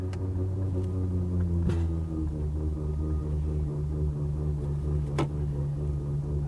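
An Infiniti QX56 SUV runs loudly with a steady, droning low engine hum and harmonic buzz, plus a couple of brief clicks or knocks, with no one speaking.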